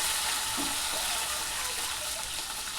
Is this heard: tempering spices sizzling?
yes